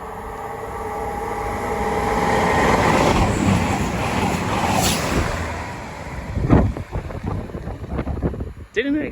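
A CrossCountry train from Manchester Piccadilly to Bournemouth passes through Pangbourne station on the Great Western Main Line, its rushing roar swelling and fading over several seconds amid wind noise, followed by softer scattered sounds.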